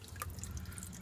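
Engine oil from a 2009 Honda Pilot drains from the oil pan into a catch container, a brief close trickle with faint dripping and splashing, no talk.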